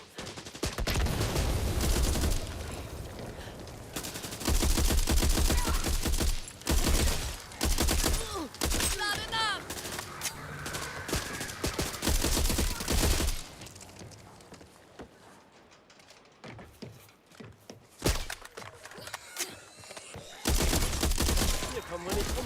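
M4 rifle gunfire in the Back 4 Blood video game, several long, loud automatic bursts separated by pauses, with footsteps and scattered single shots between them.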